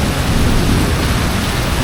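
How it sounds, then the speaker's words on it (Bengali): Heavy rain pours down in hilly North Bengal, a dense, loud, steady roar of falling water with a low rumble of thunder beneath it. "খালি গর্জন, গাড়ি আওয়াজ শুরু করে, এত মানে বলবো, বাজ পড়ছে এখানে।"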